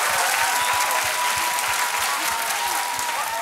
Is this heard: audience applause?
yes